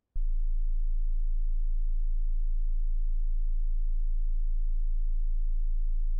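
A steady pure sine tone at 27.5 hertz, the low A near the bottom of human hearing, starts abruptly and drones on as a deep, constant hum, alone with no talking.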